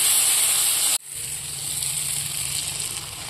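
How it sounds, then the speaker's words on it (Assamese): Eggs fry in oil in a pan on a home stove. After a sharp break, a steady hiss and sizzle continue, close and even, with no one speaking. "এতিয়া ডিমখিনিও অলপ ড্ৰাই হোৱালৈকে অলপ সময় ভাজি থাকিম।"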